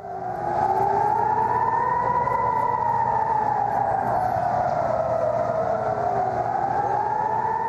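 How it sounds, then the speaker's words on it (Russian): Air raid siren sounding over Tel Aviv during an evening rocket attack, a long wailing tone rising and falling slowly, loud and continuous, heard from a distance with a steady background rumble. "Впервые за много лет в нем зазвучал сигнал воздушной тревоги."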